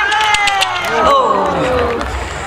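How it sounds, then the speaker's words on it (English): A crowd at the Poynton Show's Chase Me Charlie event cheers a rider named Isabel, a sustained wash of shouts and cheers under a voice calling out over the top. "Give her a cheer. Come on, Isabel. Come on. Cheer her on."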